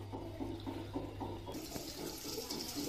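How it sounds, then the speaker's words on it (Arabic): Tap water runs steadily onto a washed blanket during rinsing, a continuous splashing wash that grows brighter and fuller partway through. "ودلوقتي بقى هنشغل عليها الميه النضيفه، هنشطفها طبعا كذا مره مش مره واحده"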